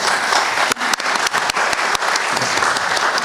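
Dense applause from an audience in a hall in Bacău honoring prose writer Eugen Ricaru at a literary award ceremony, loud and continuous with a few sharp individual claps standing out.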